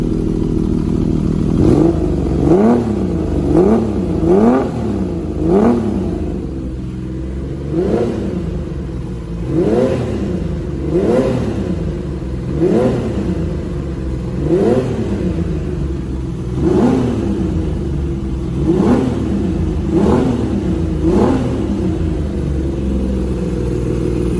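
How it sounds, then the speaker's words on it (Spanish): A warm Honda CBX 1000 cafe racer motorcycle engine is revved again and again in a steady rhythm of rising and falling bursts, loud and close, with no talking. "le podremos dar unos acelerones"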